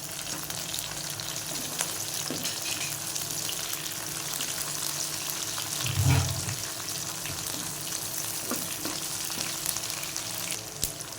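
Tomatoes frying in garlic ginger paste in a pan, a continuous close sizzle with occasional stirring scrapes and one brief low thump, no voices.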